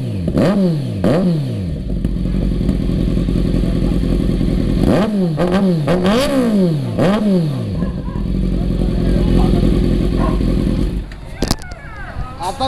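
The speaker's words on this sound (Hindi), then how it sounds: "और अभी अपन करेंगे बाइक स्टार्ट।" Kawasaki Z900 motorcycle fitted with an SC Project exhaust, revving hard in a series of loud rising and falling blips, with the engine idling between throttle bursts and voices talking over it.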